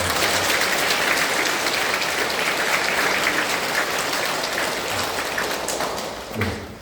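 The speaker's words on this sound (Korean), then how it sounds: "나눠주셔서 박수 드립니다." An audience at a Lenten lecture in a Catholic church in Guro-2-dong claps together in sustained, even applause that thins out near the end.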